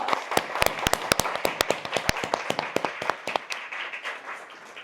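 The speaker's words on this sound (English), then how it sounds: "Please give them a big round of applause." A small crowd claps at a ladies' club meeting, welcoming guest tea chairs. The applause comes as a loose run of sharp, uneven handclaps that thins out toward the end.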